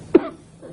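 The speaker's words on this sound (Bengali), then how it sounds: "যতই আটকাই কাশি ততই বাইরে আসে," A single short, sharp cough close by, followed by a faint breathy tail and a soft throat sound.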